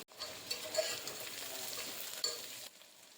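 Sliced onions sizzle and crackle steadily in a hot pan for pudina rice, a continuous frying hiss with occasional pops, no voices.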